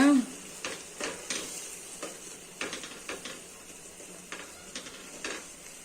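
Sugar stirred into cooked carrots for carrot halwa, giving soft, evenly spaced scraping strokes of a spoon in a pan over a quiet sizzling background.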